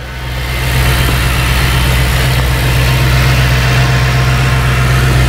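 A 2003 Ford Thunderbird engine idles with a steady low rumble, loud and close, after a brief rise as it settles while the throttle defaults.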